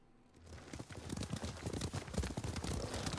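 Horses gallop into battle in Ghost of Tsushima, their rapid, rhythmic hoofbeats swelling from quiet to a thick, continuous drumming of several animals at once.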